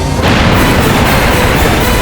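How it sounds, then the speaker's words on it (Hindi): Akbar's cannons being blown up in a Maharana Pratap historical drama: a loud, sustained explosive boom that bursts in abruptly and rumbles on densely without pause. "समय आ गया है अकबर की इन तोपों को उड़ाने का।"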